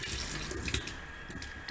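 Kala Bhasa plant leaves are rinsed under a running tap, giving close, steady splashing of water over the leaves with no voices.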